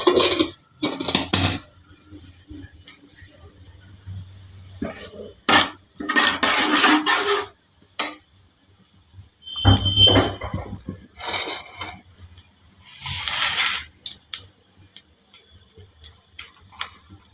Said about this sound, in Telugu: గరం మసాలా వేగుతున్నాయి కదా,